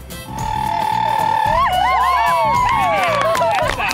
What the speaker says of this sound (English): the audience is encouraged to scream and shout, take their hats off, whistle, make some noise